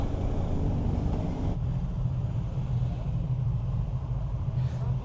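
A BMW F450GS motorcycle ridden on the road in third gear, its engine a steady low rumble that blends with heavy wind buffeting, loud and continuous throughout.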